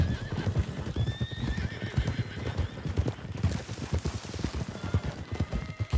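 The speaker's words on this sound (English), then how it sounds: "Those are pretty horses, though." Horses galloping with steady clip-clop hoofbeats and repeated whinnies in Red Dead Redemption 2, the hooves loud and close throughout while neighs ring out over them.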